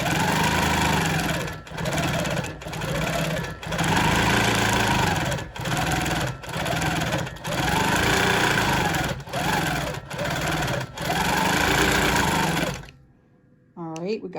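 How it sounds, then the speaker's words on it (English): Sewing machine stitching free motion quilting, loud rapid whirring in repeated bursts of one to two seconds separated by brief stops, ending in near silence with a faint click. "Okay, let's start stitching these out."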